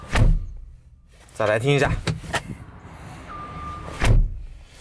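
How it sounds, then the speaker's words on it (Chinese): Someone shuts the door of a 2016 Jeep Wrangler Rubicon twice, each time with a heavy, close-up thud. Someone talks between the two closings, and a short electronic chime sounds just before the second one. "所以吉普的门的关的声音要听好"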